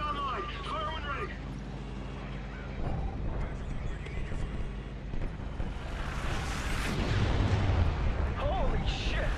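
Heavy artillery pounding armored battalions in Call of Duty: Ghosts, with deep booms and rumbling blasts that swell louder toward the end, mixed with game voices and other battle noise.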